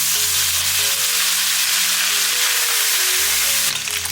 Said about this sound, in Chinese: 在边缘淋入少许料酒